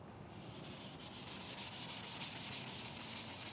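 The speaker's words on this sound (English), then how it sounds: "we'll just scuff it up and give it, like I said, just give it a light scuff" A helicopter tail rotor blade is scuffed by hand with fine 600-grit abrasive ahead of custom paint, giving steady rhythmic rubbing strokes, close and continuous with no talk.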